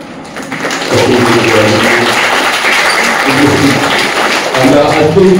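Applause at a youth conference at a Ramakrishna Math in Ichhapur, Arambagh, rises into a steady wash of clapping from a crowd, with voices heard over it throughout.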